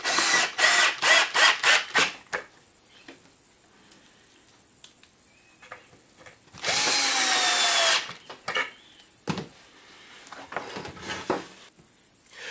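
A power drill drives pocket hole screws into wood in a woodworking shop: a run of short rapid trigger bursts, then one longer sustained whirring drive, followed by scattered clatters and handling knocks, close by.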